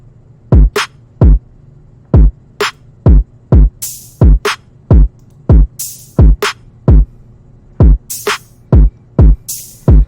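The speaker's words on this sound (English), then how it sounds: "It should sound something like this for the open hats in the context of" A steady drum loop with punchy kicks and snares, open hi-hats hissing on the offbeats in a regular, repeating groove.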